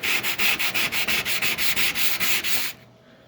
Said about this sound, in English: I'm going to go over and lightly sand